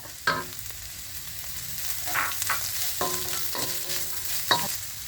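Carrot, onion, garlic and ginger sizzle in a hot pan while a spatula stirs and knocks against it several times, close and steady, with no talking.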